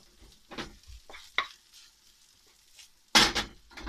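Egg fried rice with bacon scraps being stirred in a hot pan, with a few scattered scrapes and clatters and a louder burst of sizzling near the end.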